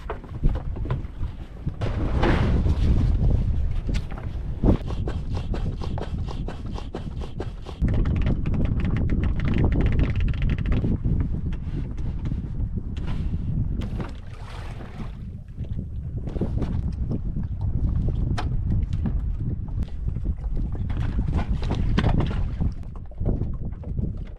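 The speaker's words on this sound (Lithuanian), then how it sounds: "Laivelis paruoštas, variklis kūrėsi puikiai" A small motorboat engine runs on a remote Arctic lake, a steady mechanical drone heavily buffeted by loud wind noise, with brief dips and surges in level.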